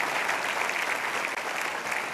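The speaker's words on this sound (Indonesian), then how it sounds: "Boleh berikan tepuk tangan untuk Anda." Studio audience applause on an Indonesian motivational talk show, a steady, even wash of many hands clapping that holds at a constant level for about two seconds without any voices.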